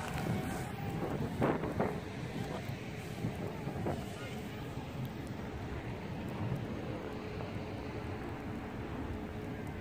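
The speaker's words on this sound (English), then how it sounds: "This is a lot of wind here." Strong wind roars steadily and loudly outdoors in snow, buffeting the microphone with constant broadband rumble and gusts, and a small JJRC H345 drone's whine is partly masked beneath it.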